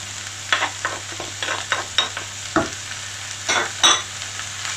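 Minced meat with spices and vegetables is stirred in a frying pan, with a low continuous sizzle under a series of distinct scraping strokes of a utensil, close and fairly loud, with no voices.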